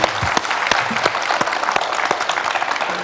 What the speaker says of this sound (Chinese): 来，我们再次给他这个热烈的掌声。